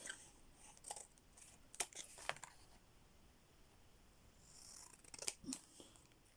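Scissors snip brown paper while Christmas gift tags are trimmed by hand, giving a few sharp, close cuts in short bursts with quiet pauses between them, and no one speaking.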